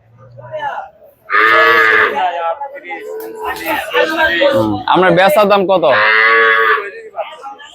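A Jersey cow moos loudly twice at a busy rural cattle market in Bangladesh, each long call standing out over steady crowd chatter and a voice asking a price.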